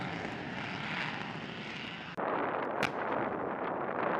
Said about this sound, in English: Those are all CH-53s right there. CH-53 Super Stallion. Heavy lift.